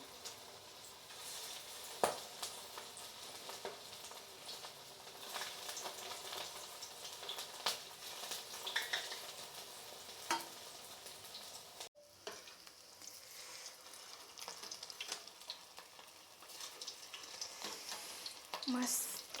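Food deep-frying in hot oil until crispy, a steady dense sizzle with occasional louder pops and crackles, close and continuous with a brief break midway.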